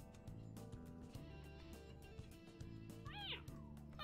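Cats in Persona 5 give a faint meow near the end while being fed, over a steady rhythmic game music loop.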